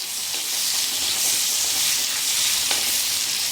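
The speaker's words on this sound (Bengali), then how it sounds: "পেঁয়াজটা একটু আমি হালকা করে ভেজে নেব" Chopped medium-sized onion sizzling in hot oil for a chicken kofta curry, a steady broadband frying hiss throughout with a couple of faint stirring scrapes, close and alone.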